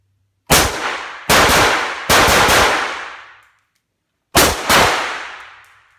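Bursts of automatic rifle fire from a weapon fitted with an Artel muzzle brake crack out outdoors: three quick loud bursts, a pause, then two more, each trailing off in a long echoing decay.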